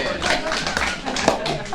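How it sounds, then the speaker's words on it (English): A room full of people applauding and cheering together, a steady wash of clapping with voices mixed in, fairly close and sustained throughout. "Give me a round of applause."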